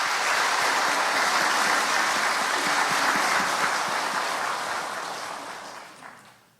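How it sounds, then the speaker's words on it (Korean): A church congregation applauds together at a Sunday worship service, a dense, sustained wash of many hands clapping for several seconds before gradually tapering off to quiet. "우리 그분들의 수고를 우리 박수로 함께"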